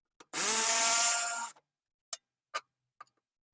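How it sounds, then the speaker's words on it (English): A fuel canister bracket bolt on a Toyota Tercel Paseo is loosened, probably with a ratchet: one sustained rasping burst, then three or four short, sharp clicks spaced apart, close and fairly quiet, with no voices. "So now we loosen this bolt so we can hold our canister."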